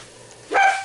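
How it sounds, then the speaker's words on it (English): A dog gives a single sharp bark in a home kitchen during cooking, brief and fairly close over a quiet background. "And you gotta excuse the dogs today."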